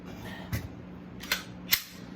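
Glock 20 Gen 4 pistol being cleared with its slide racked: three sharp metallic clicks, close up and fairly quiet, spaced unevenly over about two seconds with no talking.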